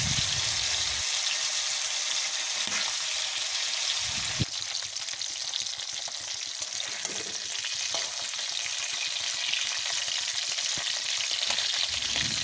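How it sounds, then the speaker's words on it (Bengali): Snakehead fish head and tail pieces, rubbed with salt, turmeric, chilli and lime, sizzle in hot oil with a steady broadband crackle throughout, with occasional stirring knocks and no talking. "কিছুক্ষণ পর মাছগুলো ভালো করে ভেজে নিচ্ছি।"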